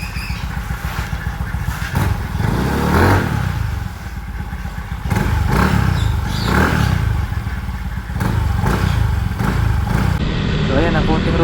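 A Yamaha Mio i 125 scooter with an upgraded cam and starter on a short road test, its engine droning steadily with repeated swells and dips of throttle, close-up and buzzy, with a rider talking over it.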